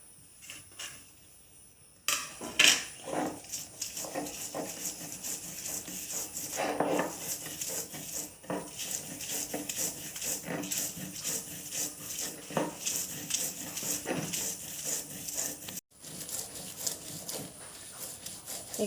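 Fried chanda fish is pounded and ground into a mash, giving repeated knocking and scraping strokes of stone or pestle, close and fairly quiet, in an uneven rhythm throughout.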